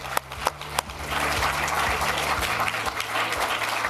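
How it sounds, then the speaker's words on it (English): A debate audience claps in a big round of applause, a few sharp claps first, then dense, steady clapping that fills the room. "Another big round of applause,"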